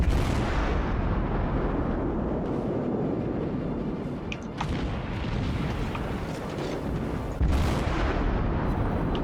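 Heavy naval gunfire from warships in the video game World of Warships, a continuous dense rumble of booming salvos with a few sharper bursts, loud and close, with no talk.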